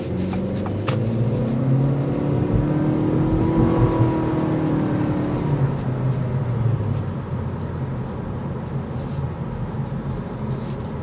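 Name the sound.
2023 Acura Integra A-Spec CVT car driving and accelerating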